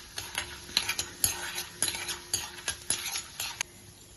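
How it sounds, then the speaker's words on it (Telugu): Peanuts, chana dal and urad dal fry in a pan with a steady sizzle, broken by repeated scraping stir strokes of a spoon against the pan, close and fairly loud, with no talking. "ఇప్పుడు దీంట్లోని శనగపప్పు, అలాగే మినపప్పు వేసి మళ్ళీ ఒక 2 నిమిషాలు వేగే వరకు వేయించుకోవాలండి"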